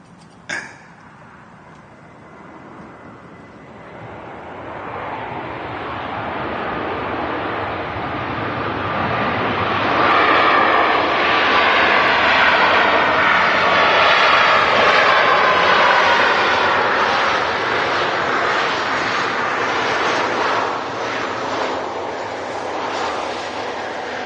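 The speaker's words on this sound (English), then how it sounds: "This Ryanair Max has just dropped in from Alicante" A Ryanair Boeing 737 Max jet landing at Manchester Airport after a flight from Alicante, its engine roar swelling from a steady rumble into a loud, broad sustained rush that holds near peak before easing slightly, with a brief knock at the start.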